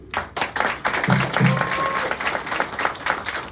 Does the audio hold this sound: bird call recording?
no